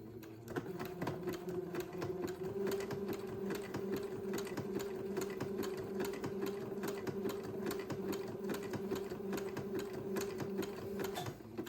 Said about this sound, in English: I will zigzag this entredot in place, making sure that my needle goes into the fold of the fabric